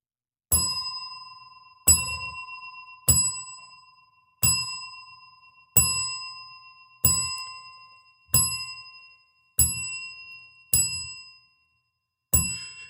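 A single bell struck ten times at an even, unhurried pace, each clear ding ringing out and fading before the next.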